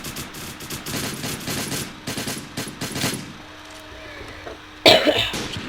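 Rapid bursts of video game gunfire from a FAMAS rifle in Minecraft Counter Craft crackle in quick volleys, fading to a lull before one sharp loud blast near the end.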